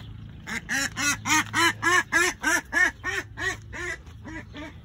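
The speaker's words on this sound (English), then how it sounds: "Those ducks are so annoying." A run of about a dozen loud, evenly spaced duck quacks close by, steady in rhythm before trailing off near the end.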